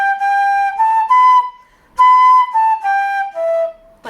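A solo flute plays two short phrases of clear high notes, each a run of sustained tones separated by a brief pause, close and bright in a traditional tune workshop setting.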